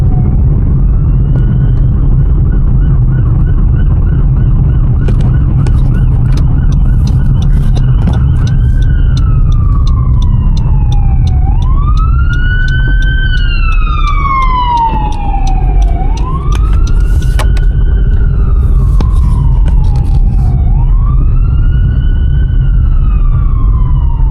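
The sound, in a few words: emergency vehicle siren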